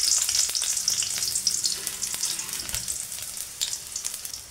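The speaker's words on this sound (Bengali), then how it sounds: "তেলটা গরম হলে এই তেলে আমি সবজিগুলো ভেজে নেব।" Onions fry in hot oil in a steady, close sizzle, with a few faint clicks and scrapes from stirring and no talking.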